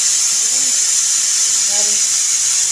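A pressure cooker of mutton curry lets off steam in a steady, loud, unbroken hiss that lasts throughout, with a faint voice murmuring briefly underneath.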